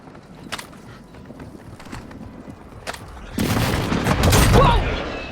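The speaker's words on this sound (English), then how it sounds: "Enemy precision airstrike." Enemy precision airstrike in Warzone Mobile on Rebirth Island: scattered distant thuds and shots give way to a loud, sustained burst of explosions near the end, with a brief game voice announcement at the start.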